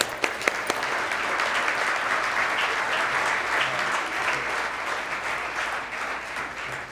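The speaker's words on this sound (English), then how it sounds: "give a big round of applause for Dave" An audience at a chamber of commerce 50th anniversary event breaking into applause, a few sharp early claps swelling into a full, steady round of clapping that carries on loud and even.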